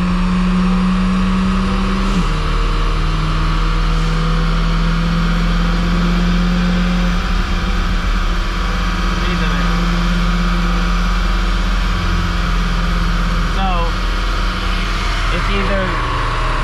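A lifted vehicle being driven in a low gear, its engine droning loud and steady with rising revs and a constant low rumble throughout.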